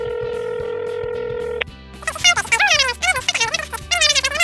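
In the Minecraft video game, a telephone gives a steady dial tone that cuts off abruptly, then a run of short electronic tones plays over a repeating background music loop while animated, high-pitched voices chatter.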